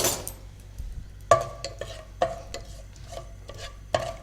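Panch phoron seeds hit hot oil in a pan, giving a light crackle followed by several sharp metallic clinks and scrapes of a spoon stirring against the pot.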